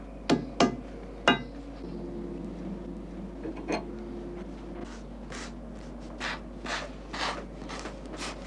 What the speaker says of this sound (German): klopft Josef Esser anschließend den eingeschnittenen Rahmen mit dem Hammer glatt.